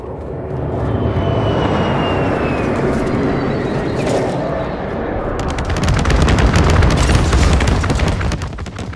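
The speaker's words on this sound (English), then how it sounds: "We're down for bombing run." Bombing-run explosions in Call of Duty: Modern Warfare II: a loud, sustained roar of aircraft, then a dense barrage of rapid blasts and gunfire that swells louder over the last few seconds.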